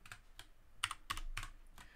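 Keys clatter on a computer keyboard in short, uneven bursts of clicks, quiet and close, with a few firmer strikes and no voices.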